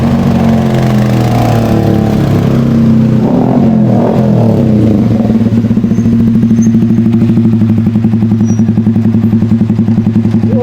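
Yamaha R15 V3 motorcycle engine running close by, rising and falling as it is revved, with the note settling into a loud, steady, rapid putter.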